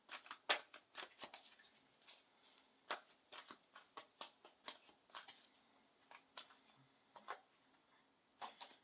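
Soft, scattered tarot card shuffling close by, irregular flicks and taps with gaps between them, quiet and without talk.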